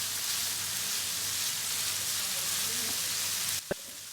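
Chicken coated in masala spices sizzles on a hot tawa pan, a steady hissing, crackling fry that runs continuously before a sudden clatter and drop in level near the end.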